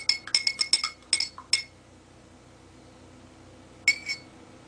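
A spoon clinks sharply against a glass as drops are stirred in, a quick burst of bright taps followed by a pause and two more clinks, close and clear.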